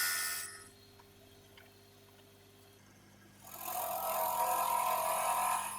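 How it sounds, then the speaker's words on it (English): An oak lidded box spins on a woodturning lathe while a 1/2 inch spindle gouge hollows its inside. A hissing cut opens, gives way to the low hum of the lathe, then a longer, louder cutting rasp returns. "spindle gouge to start the hollowing."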